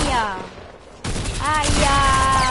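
Bursts of automatic gunfire in the video game Fortnite, a rapid rattling volley that cuts off, then resumes loud and sustained, with a voice speaking briefly over the shots.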